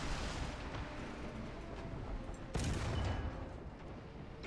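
Tank destroyed in War Thunder on the Mozdok map: a dense, rumbling battlefield din with a loud boom bursting in at mid-clip, then heavy blast noise slowly fading.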